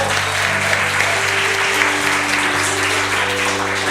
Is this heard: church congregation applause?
yes